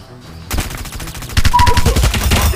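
Bursts of gunfire from the video game Omega Legends crackle almost without pause, getting louder and denser partway through, with rapid overlapping shots like automatic weapons.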